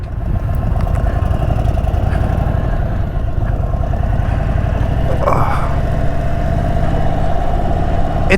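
Indian Super Chief motorcycle engine idling steadily up close, a continuous low rumble with an even mechanical hum that stays loud and unbroken throughout, no talking over it.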